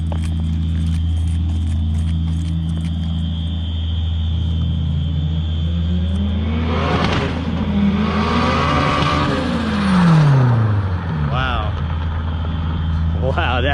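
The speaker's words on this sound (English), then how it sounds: "This is an AP1 S2000 with an AP2 motor." A turbocharged AP1 Honda S2000 fitted with an AP2 engine revs loudly from inside the car, its pitch climbing and falling through a long pull over a constant engine rumble.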